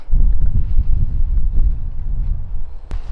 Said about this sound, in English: it is getting really windy out here